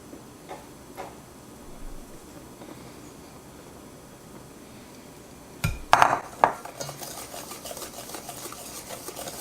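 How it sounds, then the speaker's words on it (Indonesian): Balloon whisk stirring flour and baking powder into chiffon cake batter in a bowl, soft rhythmic scraping ticks that grow into louder clattering strokes against the bowl in the second half. "Ini aduk dulu supaya rata baking powdernya."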